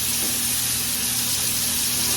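Onions frying on low heat in a big pan for smothered pork chop gravy, a steady, close hiss of sizzling with a faint low hum, continuous and unbroken, with no talk.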